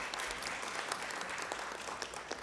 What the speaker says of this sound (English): I think we need to give the Media Center a round of applause